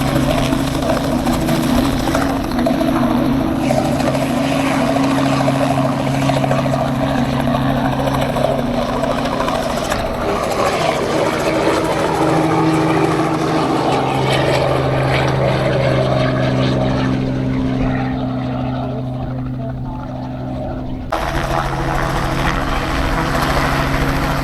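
Helicopter landing and taking off in a Québec winter-to-spring setting: a steady loud rotor and engine drone holds throughout, with a low layered hum and a brief dip near the end before it resumes.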